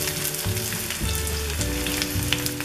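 Onions, added after cumin, frying in a pan while cooking shimla mirch aloo, giving a steady, close, dense sizzle throughout with no voices.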